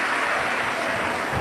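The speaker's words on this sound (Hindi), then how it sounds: "एक बार शर्मा परिवार के लिए जोरदार ताली बजाकर" An audience at a Shiv Mahapuran religious discourse breaks into loud, sustained clapping that holds at a steady, dense level throughout, with no talk over it.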